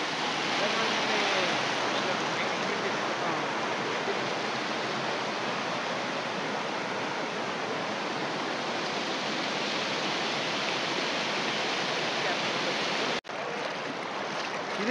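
Steady broadband rush of the Tunga river flowing near Sringeri, a loud continuous wash of moving water close by that holds evenly throughout, briefly dipping near the end.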